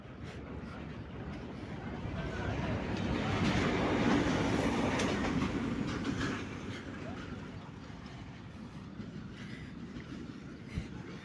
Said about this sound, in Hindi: आज HPU20 आया हुआ है पीडीके शटल ट्रेन के साथ।